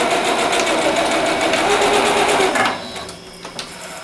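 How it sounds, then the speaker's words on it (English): Sewing machine stitching a zipper onto a wet bag, a steady rapid mechanical whir for most of the stretch, then stopping abruptly with only light handling noises afterward. "then just finish sewing it all the way to the end"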